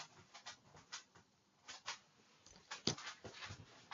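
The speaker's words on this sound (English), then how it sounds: "Now the dog wants to go out." A dog indoors whimpering to be let out, with a series of soft, intermittent whines and small yips spread unevenly over a few seconds, fairly quiet and close.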